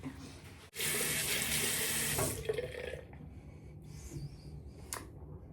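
A bathroom tap runs loudly at a sink for about a second and a half as a face is rinsed after makeup removal. It then cuts off, leaving faint drips and handling noises.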